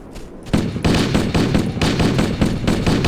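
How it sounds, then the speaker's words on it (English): Loud, rapid automatic assault rifle fire in bursts from the video game Halo: Combat Evolved, sharp cracking shots fired in quick succession with a brief pause between volleys. "it's the sound of an assault rifle"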